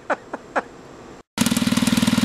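A motorcycle engine idles while warming up, a close, even pulsing chug that follows a few separate clicks and a short gap of silence.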